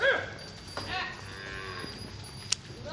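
A Gir cow moos clearly at the start on a Gujarat farm, followed by softer lowing and a faint higher call, with light farmyard background noise.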